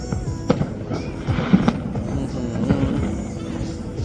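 A Chinese New Year fireworks display at Kings Romans in Laos fills the night with continuous rumbling and crackling, punctuated by several sharper booming bangs, loud and fairly close.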